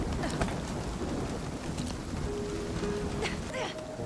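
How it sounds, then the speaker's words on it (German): Hail pelting down in the survival video game Nightingale, a dense, steady rattling hiss that fills the whole stretch alongside faint tonal game sounds. "Ah, das ist Hagel!"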